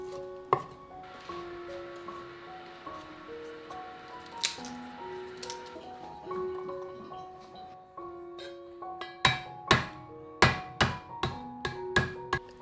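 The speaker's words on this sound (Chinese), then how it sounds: "再切点小葱和蒜末就可以了" Scallions and garlic, including small purple-skinned Yunnan garlic, chopped with a knife on a board: a quick run of crisp, loud chops near the end, with soft background music before it.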